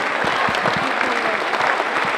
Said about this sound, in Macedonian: нека овој аплауз биде воден во идните ваши аплаузи